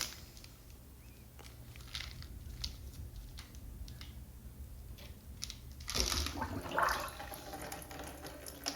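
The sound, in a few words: toilet flushing poorly with clogged siphon jet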